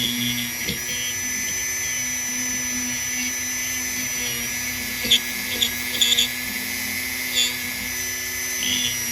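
A small Dremel rotary tool runs steadily with a high-pitched whine, cutting as part of a student manufacturing job, with a few brief knocks and bites as it contacts the workpiece held in a loose vise.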